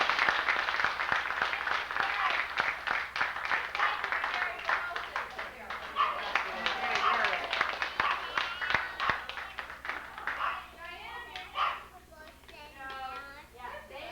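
A family breaks into applause and cheering at a reunion in Oshkosh, a dense burst of clapping that thins out, with voices talking and a couple of shouts near the end.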